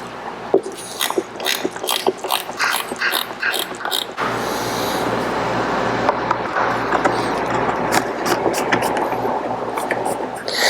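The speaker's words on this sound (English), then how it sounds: "I got a ratcheting 10mm wrench to undo one nut right here" Ratcheting 10mm wrench undoing a nut on a 1992 BMW E34 M5, rapid clicking ratchet strokes in uneven bursts, close up, followed by a steadier mechanical rasp and a faint background hum.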